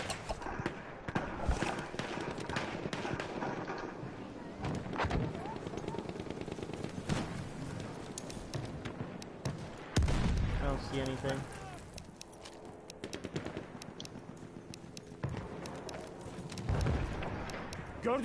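Rapid machine-gun bursts and single gunshots crackle through a Battlefield 1 Conquest match on Sinai Desert, with explosions and hoofbeats mixed in, while players talk and shout over the din.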